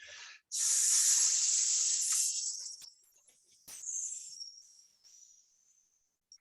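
A voice makes a long hissing S sound imitating a snake as qigong breathing, one sustained loud hiss followed by softer, fading hisses, close and alone.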